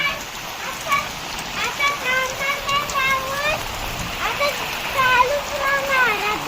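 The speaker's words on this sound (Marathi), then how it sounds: "आता पावसाचा जोर वाढलेला आहे पाऊस जोरा झाला" The first monsoon rain of the Konkan region falls hard and steady in the background while a person talks over it, the watery hiss filling every pause.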